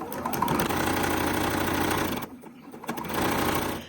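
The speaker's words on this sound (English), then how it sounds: "I'll finish sewing the rest of my purple scraps" A sewing machine stitches purple fabric scraps for a quilt, a close, fast whirring hum that runs for about two seconds, drops out briefly, then resumes.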